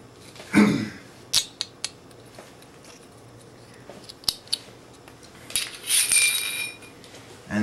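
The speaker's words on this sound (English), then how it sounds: "you can trim these edges up a little bit so you don't leave yourself so many sharp edges in your kit" Snips trim the sharp edges of a metal simmer ring for a homemade alcohol stove: a handful of close, crisp cuts and clinks at uneven intervals, with no voices.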